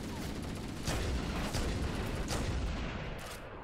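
Gunfire in the Halo 1 video game, a dense continuous fusillade of shots with a few louder bursts standing out, loud and sustained throughout.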